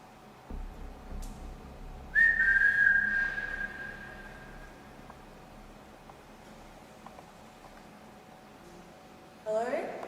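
A single sustained whistle-like tone during a paranormal investigation inside the old Geelong gaol, holding steady for about two seconds over a low hum and room noise, with a brief rustling burst near the end.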